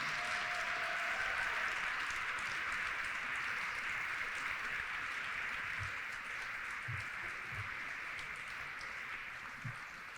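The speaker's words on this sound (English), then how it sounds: "can we have a round of applause for all of our honorees this evening?" Steady applause from an evening medal ceremony audience honoring recipients, a dense continuous wash of clapping that holds evenly and fades slightly toward the end, with a brief faint voice early on.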